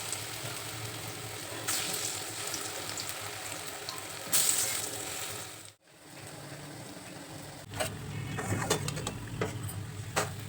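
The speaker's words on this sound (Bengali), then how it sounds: "তারপর একে একে কাঁচকলার বড়াগুলোকে ভেজে নেব।" Raw banana fritters for a vegetarian kofta curry fry in hot oil over a medium flame, a steady, close crackling sizzle running continuously, dipping briefly once before resuming with scattered louder pops.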